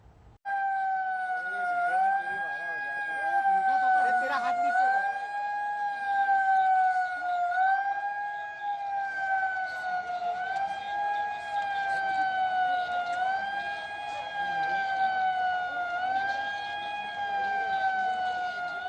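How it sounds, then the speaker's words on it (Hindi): A public warning siren in Madhya Pradesh, India, wails, rising and falling continuously for the whole stretch, loud and steady, with a faint rumble of traffic underneath. "मध्य प्रदेश में कल सायरन बजा ताकि लोग जागरूक हों।"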